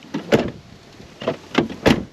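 A 1987 BMW E30 with a thick acoustic door seal has its door worked, giving several short thuds and clunks spaced through the moment, close and fairly loud.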